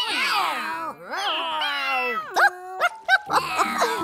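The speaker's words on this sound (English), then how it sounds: "oh, kitties, you're meowing like that because you're so hungry." Several hungry cats meow repeatedly, long drawn-out wavering cries overlapping near and loud, then shorter sharp mews toward the end.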